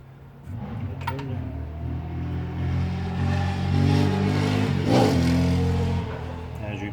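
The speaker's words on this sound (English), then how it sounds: "as you can hear, the bikes are out today." Motorbikes rev outside, a broad engine drone that swells and peaks in the middle before easing off, heard from a distance behind indoor work on a Polaris RZR fuel pump.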